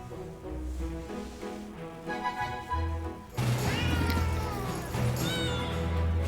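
A cat meows repeatedly in the video game Potionomics, clear and close, over background game music, with a louder, busier stretch of meowing and clatter in the second half.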